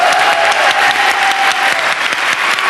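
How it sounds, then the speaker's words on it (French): Studio audience applause on a French television talk show, a dense, steady wash of many hands clapping together, loud and close, sustained without a break and with no talk over it. "On les applaudit d'ailleurs."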